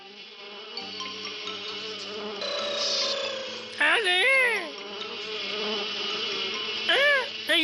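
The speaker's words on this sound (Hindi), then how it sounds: "मैंने जादुई मच्छर बुलाए हैं, उनका झुंड आता ही होगा" A cartoon swarm of magic mosquitoes buzzes in a thick, continuous drone, rising louder partway through, with a brief spoken voice in the mix.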